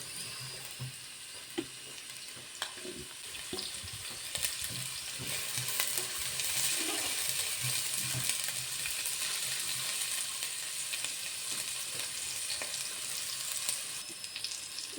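Small onions sizzle and fry steadily in a pan for a quick home-cooked fish and tapioca meal, a continuous crackling hiss with occasional stirring clicks, close and growing slightly louder midway.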